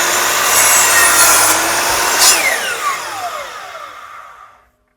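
A mitre saw cuts through timber with a loud, rasping buzz that ends as the blade winds down, its pitch sliding lower until it fades to silence.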